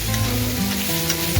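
Turnips frying with garam masala and spices in an open pan, a loud steady sizzle with low rumbling stir scrapes up close, no voices.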